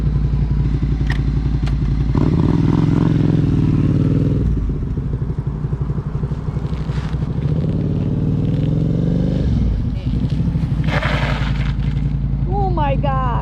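A motorcycle engine revs up and down in first gear with the clutch pressed partway so it slips, loud and close, with engine tone rising and falling in several sustained pulls.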